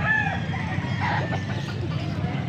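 A stag, a young gamecock, clucks and gives short strained calls close by, set against steady background noise and a faint hum.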